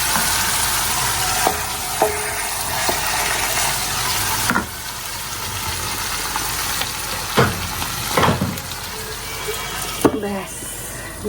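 Broadband sizzle of marinated chicken frying in a pan fills the clip, broken by a few scraping knocks and clatters, with some faint voice in the background.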